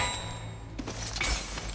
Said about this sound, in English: Very satisfying to hear the sound of glass.